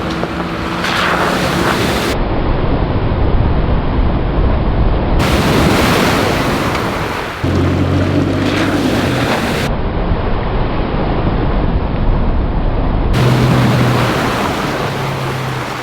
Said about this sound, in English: Got a nice little creek crossing here, help wash some of that mud off